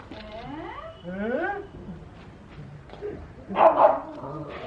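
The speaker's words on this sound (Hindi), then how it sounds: "देखिए कि गूगल को भौंका जा रहा है" A dog named Bozo barks and yips at another dog outdoors, a few close, whining barks and then a louder burst near the end, with some background murmur.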